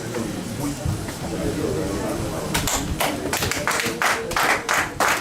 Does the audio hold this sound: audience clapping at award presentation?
yes